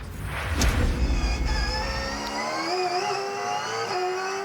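Supercars Championship race cars on the Gold Coast 600 street circuit in 2019 sweep past with a loud rushing whoosh, then sustained engine notes that shift in pitch as they pull away.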